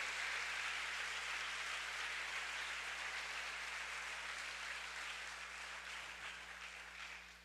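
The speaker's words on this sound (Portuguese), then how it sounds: "Dê uma salva de palmas a Ele." Church congregation applauding during a Portuguese-language sermon, a soft, distant, continuous patter of many hands with a low hum underneath, sustained evenly and tapering slightly at the end.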